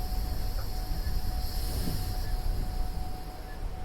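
Train wagons rolling along the track in a train-driving video game: a steady, dense rumble and rolling noise with a faint high whine, continuous throughout.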